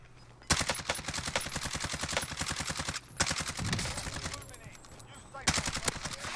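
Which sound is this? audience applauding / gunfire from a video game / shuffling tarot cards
gunfire from a video game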